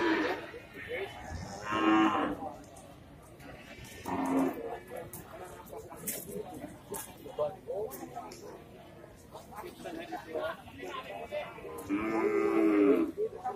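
Cattle mooing at the Pasar Wage Bumiayu livestock market, several low calls rising out of a busy crowd, with someone talking over the noise throughout.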